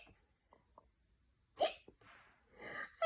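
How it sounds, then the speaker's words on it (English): A person with a bad case of hiccups gives a few sudden, sharp hiccups, short and fairly close, separated by quiet pauses in an indoor setting. "You may have noticed that I got a terrible case of hiccups."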